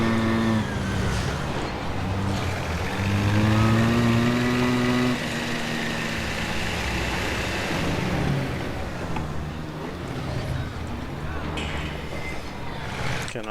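Motorcycle engine in SimCity, steady loud motor drone with shifting pitch as the rider speeds along a ramp, mixed with game background sound.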